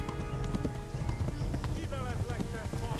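Rapid, rhythmic hoofbeats of a horse galloping in the video game Kingdom Come: Deliverance, steady and fairly close throughout, with someone talking over them.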